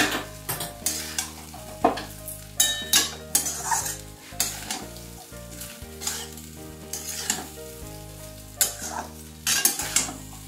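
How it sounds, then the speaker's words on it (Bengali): Jeera rice is stirred in a pan, with a spoon scraping and knocking against the metal in irregular close strokes over a light sizzle. "দিয়ে খুব ভালো করে একটু নেড়ে নিচ্ছি।"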